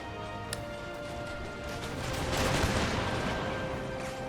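Infantry musket volleys crackle in a Napoleonic-era strategy battle game, a dense fusillade of overlapping shots at mid distance that swells into a louder burst midway, then thins.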